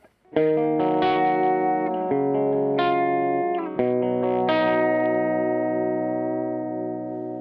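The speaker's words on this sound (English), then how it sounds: "This is with the boost engaged." Electric guitar chords ring out through a Sonicake Black Hammer 4-in-1 metal pedal with boost engaged, several strums sustaining bright and full, loud and close with a shimmering tail.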